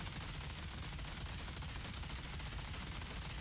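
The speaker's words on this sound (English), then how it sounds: "then I just stand in one spot and shoot" Dense, sustained gunfire in the looter-shooter game Outriders during a boss fight, a continuous roar of rapid shots and impacts that stays loud and steady throughout, with no voices.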